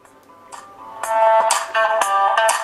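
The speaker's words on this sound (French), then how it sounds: "je lance la musique favorite que j'utilise maintenant depuis un moment sur les téléphones pour les tester" A Doogee X7 Pro phone plays music through its built-in speaker during a volume test, with bright, punchy notes that swell from quiet to loud and carry a clear melody.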